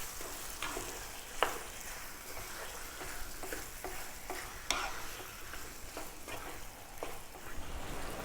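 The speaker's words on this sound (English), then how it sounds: "the marinated beef, in it goes. And on a medium heat, we're going to go for 8 or 9 minutes. Give it a stir every now and then." Marinated beef fries over medium heat, producing a steady, close crackling sizzle with repeated clicks and taps from stirring against the pan at an irregular pace, and no speech.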